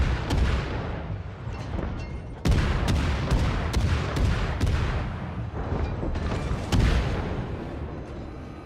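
Naval cannon fire in the World of Warships video game: a rapid series of heavy booming gun blasts, loud and close, several salvos overlapping with rumbling echoes.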